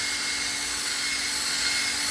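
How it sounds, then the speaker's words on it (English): A drill spinning a wire brush scours the inside of a Rolls-Royce brake accumulator, giving a continuous close, loud whirring buzz with a steady scratchy hiss and no talk. "get a wire brush like this on a drill, and we get that in there, and we go ahead and we clean that out"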